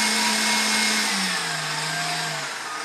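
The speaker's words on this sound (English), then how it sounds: "see the KitchenAid's running basically at maximum performance there" A KitchenAid mixer powered through a 240-to-120-volt step-down transformer whirs at its maximum speed setting, a steady close motor whine that dips slightly in pitch partway through, with no talk.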